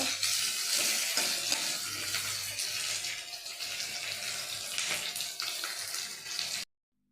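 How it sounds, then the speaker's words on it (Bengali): Chopped onions frying in a kadai for kadai paneer give a steady hiss of sizzling oil, held at an even level for about six and a half seconds before it cuts to silence, with no voices. "পেঁয়াজটা একটু হালকা করে ভেজে নেব।"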